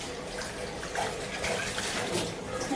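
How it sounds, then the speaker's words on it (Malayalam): A kitchen tap runs steadily while dishes are washed, giving a continuous, moderately faint splashing hiss with no talk. "പാത്രമൊക്കെ കഴുകി."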